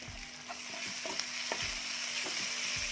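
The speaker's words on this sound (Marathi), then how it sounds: "टोमॅटो देखील छान परतून घेऊया." Tomatoes sizzle steadily in a hot pan while a spoon scrapes and stirs them in repeated short strokes, close and continuous, for a Kolhapuri-style flat-bean curry.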